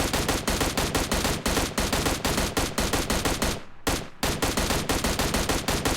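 Sustained automatic rifle fire in PUBG Mobile, a loud, dense stream of rapid shots that pauses once briefly near the middle before resuming, close and continuous with no talk.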